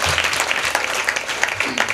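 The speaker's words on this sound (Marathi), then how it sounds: "हे आयोजक नियोजक संयोजकांसाठी जोरदार टाळी वाजवा." Audience applause for the organisers at a Marathi kirtan gathering, dense steady clapping filling the whole two seconds with faint voices underneath.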